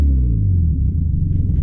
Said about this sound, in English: Yeah, it's not really happy revving.